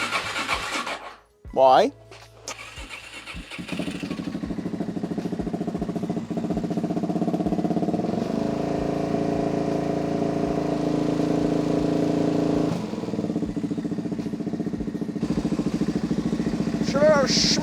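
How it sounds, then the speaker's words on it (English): A dry sump motorcycle engine fires up after a brief starting burst, then settles into a steady, droning idle-to-rev as it warms up, holding on close by with a short spoken word near the start. "this time it will start and I can run it up a bit to let it warm up"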